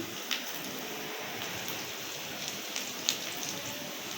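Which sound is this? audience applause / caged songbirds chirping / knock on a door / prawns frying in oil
prawns frying in oil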